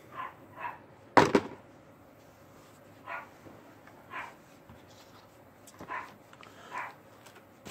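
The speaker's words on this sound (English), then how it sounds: "Forgive the dogs barking." Several short, muffled dog barks sound from a distance at irregular intervals, with one sharp close clatter near the start.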